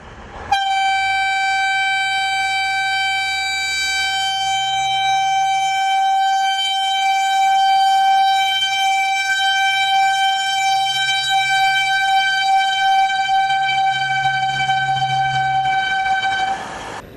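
A train horn blares in one long, steady, loud tone that holds for about sixteen seconds over a low rumble of the moving train, on a Turkish line toward Kemah and İliç.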